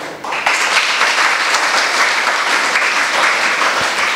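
Students in a school gathering burst into applause, a loud, dense crowd of hands clapping that starts abruptly and carries on steadily for several seconds.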